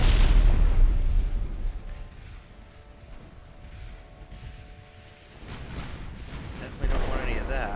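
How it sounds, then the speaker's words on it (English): Naval guns firing in the warship battle game Ultimate Admiral Dreadnoughts, heavy booming salvos at the start and end with rumbling between, under someone talking. "Look at all that fire coming after me"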